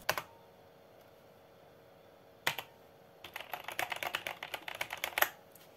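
Fast clicking keystrokes on a retro 486 PC keyboard under diagnostic testing, with a single early tap and an isolated key press, then a dense, uneven burst of typing near the end, close and clear with no voices.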